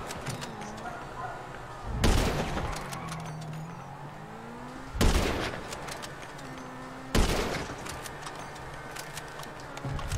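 Sniper rifle shots in GTA V Online, three loud booming single reports spaced a few seconds apart over a steady background of car engine and road noise, with faint voices.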